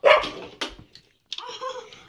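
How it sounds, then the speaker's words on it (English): A dog gives a couple of sharp, loud barks close by, followed after a short pause by a thinner, whimpering yip. "Oh, quit barking."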